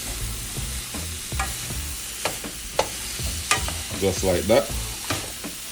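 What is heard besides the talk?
stirring spicy jerk chicken pasta in pan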